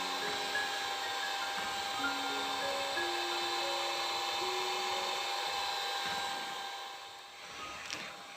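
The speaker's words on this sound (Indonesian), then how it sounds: "pengocokan dengan hand mixer seperti yang saya gunakan ini" Steady whirring drone of an electric hand mixer beating margarine, continuous and fairly quiet with a faint tonal hum, easing slightly near the end.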